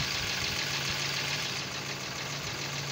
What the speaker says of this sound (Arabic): ها الموتور يدور عادي ما كاينش مشكل